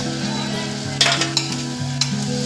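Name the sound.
chopped pumpkin stirred into frying masala mixture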